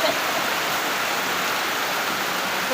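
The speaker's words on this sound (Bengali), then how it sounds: "এমন বৃষ্টি নামা নামতেছে" Heavy rain falls steadily over flooded farmland, a thick, even hiss of water that stays loud and unbroken throughout.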